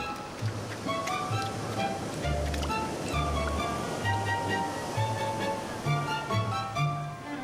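Steady ocean surf breaking on an Andean shore as a penguin troop heads into the breakers: continuous loud wash of waves under faint, intermittent musical tones.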